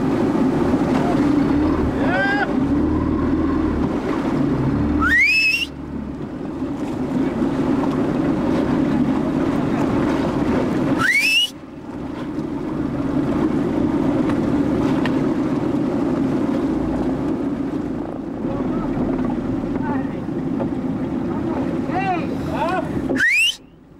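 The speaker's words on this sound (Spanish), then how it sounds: "La mar está embravecida y la situación no está fácil para acercarse a la roca con la lancha." A motor launch works through rough, heaving sea near coastal rocks during traditional goose-barnacle fishing, its engine a steady close drone under gusting wind and water noise, briefly cut twice, with a voice talking over it.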